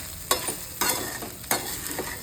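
Sabudana khichdi with crushed peanuts is stirred in a pan for a fasting dish, three distinct scraping strokes sweeping through the mixture against a soft background sizzle, close by.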